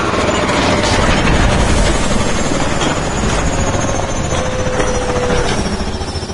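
Helicopter rotor and engine din from the Call of Duty: Advanced Warfare video game, a loud steady broadband thrum that holds constant throughout with no talk.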